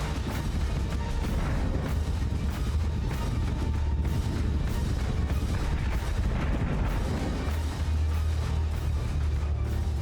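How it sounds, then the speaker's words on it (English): Heavy artillery fire from a capital ship in the space strategy game Battlestar Galactica: Deadlock, a constant roar of booming salvos and low rumbling impacts that never lets up. "But now you can enjoy Battlestar artillery"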